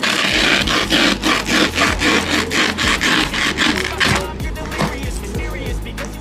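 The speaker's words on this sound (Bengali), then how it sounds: "আর থোরটা এবার কাটছি দেখো কেমন করে কাটছি আমি" A knife saws through a banana stem in a kitchen, giving loud, rhythmic, close rasping strokes, about ten in a row, that soften toward the end.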